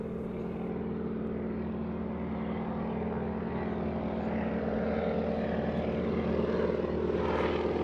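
A wingwalking display Boeing Stearman biplane, modified to 450 horsepower, drones steadily overhead at an air show in Jersey, its propeller engine a continuous low, rumbling hum that holds fairly even throughout.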